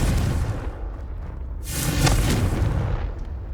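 A Confringo blast spell in Hogwarts Legacy bursts with a deep, booming explosion over a rumbling background, one heavy impact swelling midway and fading slowly.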